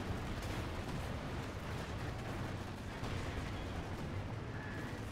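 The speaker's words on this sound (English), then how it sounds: "We got cluster bombs going off to kill a machine gun." Cluster bombs bursting in Company of Heroes 2, a dense continuous rumble of overlapping explosions and gunfire-like cracks at steady loudness throughout, with no clear gaps between blasts.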